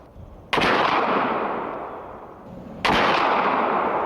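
A flintlock muzzleloader rifle fires at a shooting line: two loud, sharp blasts about two seconds apart, each followed by a long, rolling echo that fades slowly.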